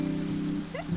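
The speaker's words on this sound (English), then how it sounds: "It's raining." Steady rain falling in the video game Genshin Impact, a continuous even patter with faint tonal game sounds layered over it.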